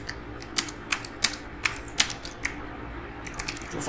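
Keystrokes on a computer keyboard while entering text into an Excel cell, a quiet run of separate clicks with short pauses between them, close and isolated, with no voice.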